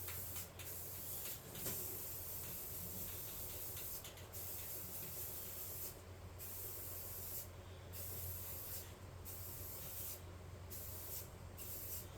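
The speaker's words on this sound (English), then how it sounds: "I'm going to prime him with satin protective enamel." Repeated bursts of satin protective enamel primer spraying from an aerosol can close by, short hissing blasts separated by brief pauses, over a low steady background hum.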